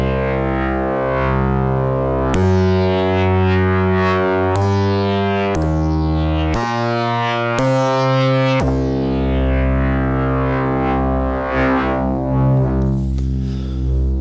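A Moog Matriarch synthesizer run dry through a Doepfer A-138S stereo mixer plays a sustained, buzzy tone that shifts pitch in a sequence of distinct steps, loud and alone.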